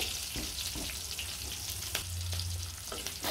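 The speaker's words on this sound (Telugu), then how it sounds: "చూడండి నూనెలో అయితే చూడండి ఇలా వేయించుకోవాలి" Onion and garlic frying in oil for tomato chutney, giving a steady low sizzle with a few soft stirring scrapes and clinks close by; no one speaks.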